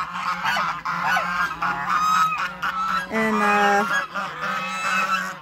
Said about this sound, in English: This goose right there is my boyfriend.